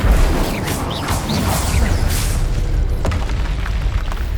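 Spell blasts from Confringo and Incendio in the Hogwarts Legacy video game, a dense, loud, sustained rumble of booms and crackling bursts with a sharp crack near the end, no talking.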